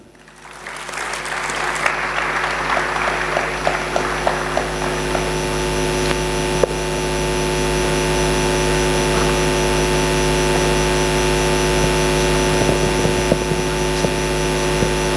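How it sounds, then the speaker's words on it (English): Loud, sustained applause from a symposium audience welcoming the moderator at a college event, a dense clapping roar mixed with a steady low hum and tonal drone that runs under it throughout. "let's give a huge round of applause to our moderator for today, Ms. Jeevitha P. Raju"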